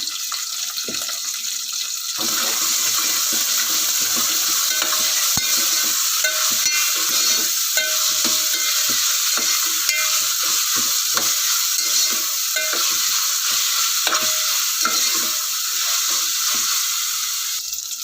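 A constant loud sizzle of coriander, curry leaves, mint and ginger-garlic frying in a pan, with scraping, clinking stirring strokes scattered throughout, no voices.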